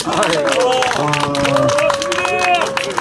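Outdoor crowd at a press conference in front of the Supreme Court claps together while voices and a tonal chant or call ring over the top, a busy, fairly loud mix of hands and speech.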